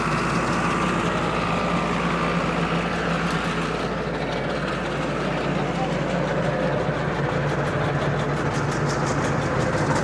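A 60 HP tractor pulls a super seeder in creeper gear, its engine a steady, loud low drone and rumble running unbroken through the whole stretch while someone talks over it.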